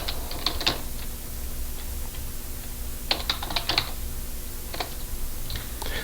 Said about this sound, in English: Simply type in the name